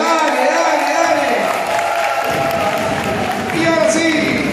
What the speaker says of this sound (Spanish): pido un fuerte aplauso con grito para Diana en su cumpleaños